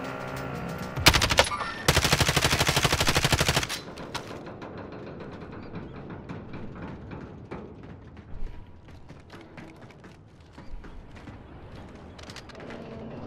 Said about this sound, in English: there's people fucking shooting right across from us